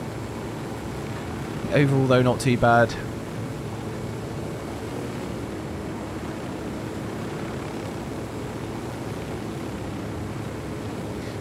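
A helicopter in the video game Ghost Recon Wildlands gives a steady, broad rotor and engine drone that runs throughout, with someone briefly talking over it near the start.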